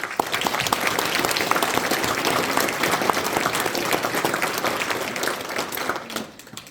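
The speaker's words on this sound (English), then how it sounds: "let's give all the candidates who participated a round of applause" Audience at a local swearing-in ceremony applauding election candidates, steady dense clapping sustained throughout and tapering slightly at the end.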